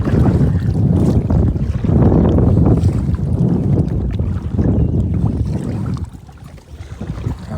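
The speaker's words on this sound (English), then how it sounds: "See, the wind's blowing to this bank, so it's good." Wind blows over a river during a kayaking trip, making a loud, steady buffeting rumble across the microphone that eases slightly near the end, with no talk.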